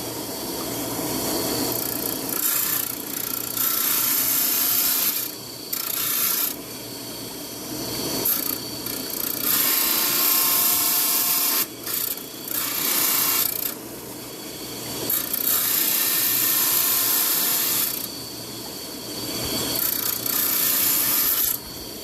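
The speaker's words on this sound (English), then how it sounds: "If you just use trim saw, you can get right down around there real good and easy." A rock trim saw cuts through a stone in long passes: loud, close grinding and rasping that holds steady for several seconds at a time, then drops briefly between passes, with no talking.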